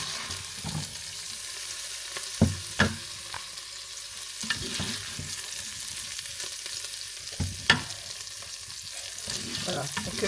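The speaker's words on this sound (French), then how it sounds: "je vais m'occuper de faire cuire la viande maintenant" Meat sizzles in a pan after bacon and onions have been cooked and removed, a moderate steady frying hiss punctuated by clinks and scrapes of a utensil against the pan.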